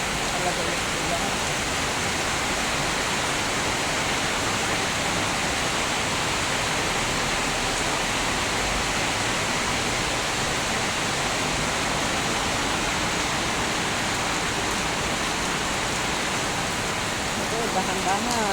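Torrential rain roaring steadily and loudly, dense and unbroken, with voices speaking faintly beneath it.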